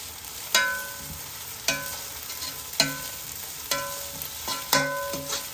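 Prawn biryani masala frying in oil with coriander leaves, stirred with a utensil scraping the pan in five or six distinct strokes over a steady background sizzle, close and moderately loud.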